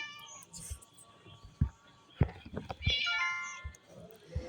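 Several cat meows, some drawn-out and high, from a game character, with short thumps and clicks in between and a voice talking faintly underneath.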